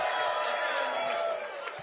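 Crowd cheering at a Pierre Poilievre town hall rally, a dense, steady roar of voices and whoops that fills the room for the whole stretch before easing slightly near the end.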